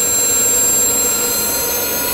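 A bicycle-mounted turbojet engine runs at full throttle as fuel feeds in, a loud, close, continuous roaring whine with a bright high hiss that holds steady throughout.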